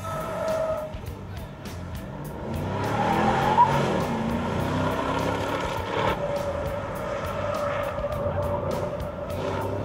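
A Chevrolet Camaro fitted with Eibach lowering springs lapping a short road race course, engine revving and shifting through corners with tire squeal, heard from a moderate distance with a faint voice underneath.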